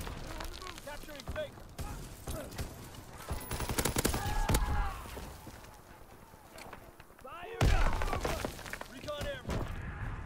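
Lewis light machine gun firing in bursts in a Call of Duty: WWII match, sharp rattling shots mixed with other gunfire, with people talking over the shooting.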